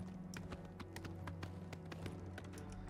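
Horse hooves clip-clop at a steady trot in the video game The Elder Scrolls IV: Oblivion Remastered, an even run of close hoof taps over a constant low game ambience, with no talking.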